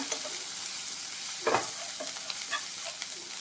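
Cabbage manchuria being tossed and fried in a nonstick pan, a soft steady sizzle with a few light stirring scrapes and one brief louder stir, fairly quiet and without talk.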